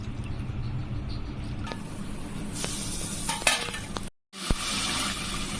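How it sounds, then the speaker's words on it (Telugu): Tamarind juice poured into a hot pan while making ivy gourd rasam, a steady sizzling hiss with stirring clinks and a brief silent gap. "చింతపండు రసం పోసేసుకోవాలండి"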